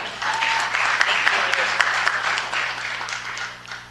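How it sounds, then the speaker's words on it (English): An audience at a city council meeting claps steadily in warm applause for several seconds, a dense patter with a few sharper individual claps and a low room hum beneath it, fading slightly at the end. "Let's give a big round of applause."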